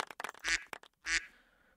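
Duck quack emote in a video game: two loud, nasal quacks about half a second apart, preceded by quick clicking sounds, close and alone.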